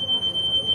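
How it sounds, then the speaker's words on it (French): A security alarm at a badge gate inside the European Parliament emits a steady, loud, high electronic tone held for under a second over a low murmur of background noise. "On fait sonner les alarmes de sécurité."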